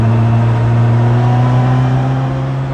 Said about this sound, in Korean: 배기음이 낮은 RPM에서 꽤 듣기가 좋습니다.